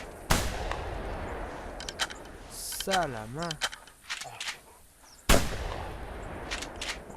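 Shotgun blasts during a goose hunt, two loud sharp reports several seconds apart, with a goose call and people talking between them.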